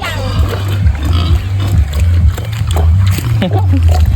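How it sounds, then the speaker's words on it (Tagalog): Pigs feed noisily on wet bran, corn feed and supplement, with sloppy splashing, slurping and grunting close by while a person talks over the eating. "binibigay na rin natin sa mga alagang baboy"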